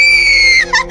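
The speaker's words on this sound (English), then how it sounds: "Suddenly, she hears a blood-curdling scream reverberating through the room." A single shrill, high-pitched scream effect holds a long piercing tone, then breaks off into a short wavering cry at the end, loud and close.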